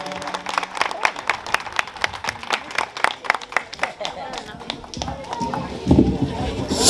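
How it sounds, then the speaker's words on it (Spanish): Wedding guests at a celebration clap steadily in a sustained round of applause, with scattered claps close by and crowd noise beneath. "un fuerte aplauso nuevamente"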